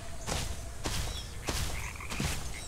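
Frogs in The Isle croak in four loud, evenly spaced bursts over a constant low murmur of ambience, with no voices.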